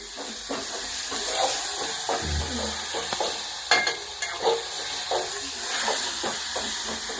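A paste of green chillies, tamarind and salt hits a hot frying pan, setting off a steady close sizzle and hiss, with irregular scraping and stirring taps throughout.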